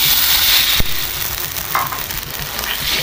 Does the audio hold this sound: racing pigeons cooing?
no